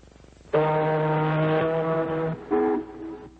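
A deep, loud ocean liner horn blasts for nearly two seconds, then a second shorter blast follows after a brief pause.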